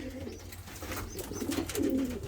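Pigeons coo softly in a breeding loft, a few low, throaty calls rising and repeating close by, with a faint higher chirp and quiet background shuffling.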